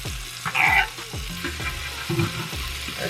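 Snapper fillets pan-frying in a hot pan, with a steady sizzle broken by several low thuds and scraping knocks as the fish is moved and pressed, close and moderately loud with no talking.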